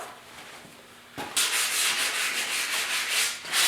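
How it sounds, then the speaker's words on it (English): Primer on a rusty tire rim being scuffed by hand, a steady rough rubbing that starts abruptly after a quiet second and continues in even back-and-forth strokes, close and fairly loud, with no voices. "scuff her up a little bit"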